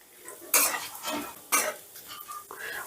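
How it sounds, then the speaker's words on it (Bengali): Whole cardamom, cinnamon, dried chilli, bay leaf and cumin stirred in hot oil over low gas flame: two sharp spoon scrapes against the pan over a soft, steady sizzle. "গ্যাসের আঁচটা লোতে রেখে ফোড়নটা একটু নাড়াচাড়া করে নেব"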